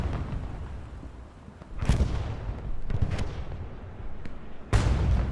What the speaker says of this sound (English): Got the 105 down below.